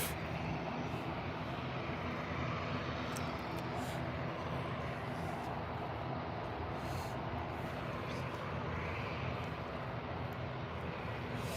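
An EasyJet airliner rumbles at Birmingham airport, a steady, broad jet roar holding at moderate distance throughout with no voices over it.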